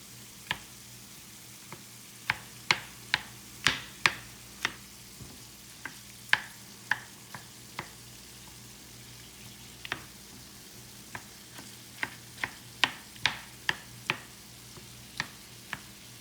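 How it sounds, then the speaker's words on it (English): Tofu scramble crumbling and frying in a pan: a soft, steady sizzle punctuated by repeated sharp scraping clicks of a utensil breaking it up, close and fairly quiet. "I like to break mine up as it's cooking like this."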